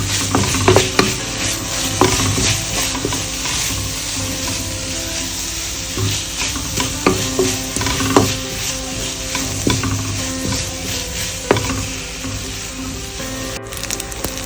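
Sliced onions sizzling in a pan with crushed ginger and garlic for a Kerala-style pork roast, a steady frying hiss broken by repeated scraping stirs of a spoon against the pan.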